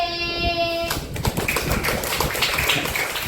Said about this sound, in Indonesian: Kita beri aplaus sekali lagi untuk kelas 1B.